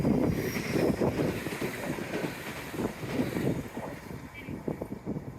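A train rolls past outdoors on a hillside walk, a steady rumble with clattering wheel beats and wind buffeting the microphone throughout, fairly close and sustained.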